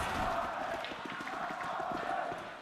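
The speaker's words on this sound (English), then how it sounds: "There's that crowd." A crowd of Brazilian fans cheers from their corner of the arena at a CS:GO tournament semifinal, producing a steady, broad roar that holds loud and even throughout.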